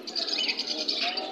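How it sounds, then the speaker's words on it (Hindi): Allahabadi pigeons at a crowded pigeon market in Nagpur give soft, continuous cooing and chirping, close and steady over busy market chatter and noise. "देखो ये इलाहाबादी कबूतर है और बहुत बेहतरीन जोड़ा है"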